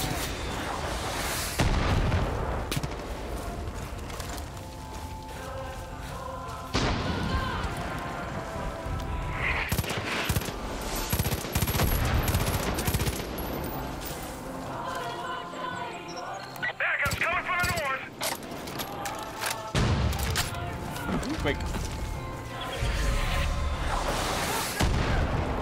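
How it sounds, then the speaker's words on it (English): Gunfire and heavy explosions in Far Cry 5 gameplay, with repeated loud booming bursts and rattling shots over a continuous din, and voices talking in between. "I got you cover fire."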